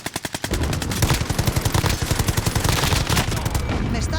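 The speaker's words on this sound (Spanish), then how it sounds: "¡Me están disparando!" Rapid automatic gunfire in Warzone's Payload mode rattles loud and close, a fast burst of evenly spaced shots followed by a longer sustained stream of fire.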